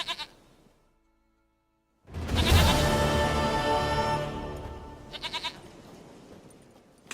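A goat bleats in The Witcher 3 game, a loud sustained bleat after a brief pause, with short rattling sounds around it.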